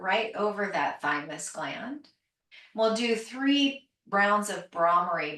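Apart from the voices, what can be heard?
None of the usual background noises is heard.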